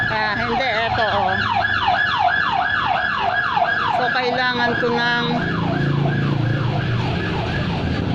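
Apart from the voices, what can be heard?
ambulance siren passing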